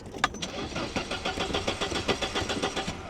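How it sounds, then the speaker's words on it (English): A classic Mercedes starter motor cranks the engine in quick, regular churning pulses that run for about three seconds, loud and close, with no speech. "Does your starter motor work?"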